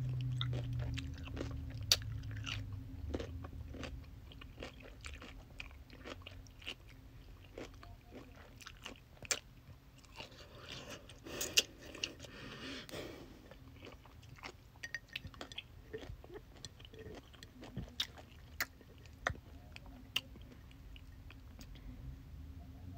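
Crunchy pickles being chewed close to the microphone: soft steady mastication with scattered crisp crunches over a quiet background hum, no talking.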